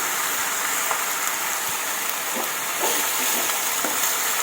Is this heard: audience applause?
no